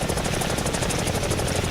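A helicopter in the War Thunder video game hovers over a runway, its rotor giving a loud, steady, fast thumping chop with a continuous engine drone beneath, and no talk.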